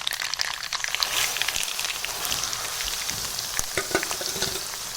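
Gongura chutney paste frying in hot oil after spluttering mustard seeds, a steady crackling sizzle with sharp pops and light stirring scrapes, close and continuous throughout.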